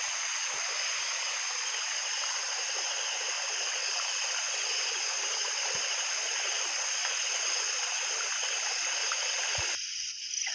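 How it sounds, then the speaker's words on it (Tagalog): A river rushes loudly and continuously, a dense, steady wash of flowing water filling the scene with no voices. "Sobrang ingay ng ilog mga idol."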